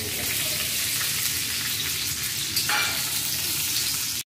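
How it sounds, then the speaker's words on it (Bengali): Raisins frying in hot ghee in a kadai, a steady loud sizzle with crackling that holds throughout and shifts slightly partway as they are stirred. "কিশমিশগুলো একটু ভেজে নেবো"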